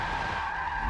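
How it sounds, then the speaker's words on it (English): Tires on a 2016 Dodge Viper ACR V10 drift car in a racing game squeal in a steady, loud, sustained skid, alone with no talk. "Just roasting the tires."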